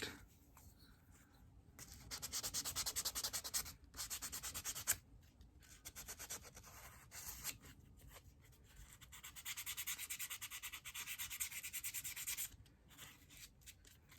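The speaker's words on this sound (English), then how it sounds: "And we'll go with our heavily used 180 grit." Sandpaper of 180 grit rubs against a spinning wooden Christmas ornament on a lathe, a close, hissing scratch that comes in sustained passes broken by short pauses, with no talk.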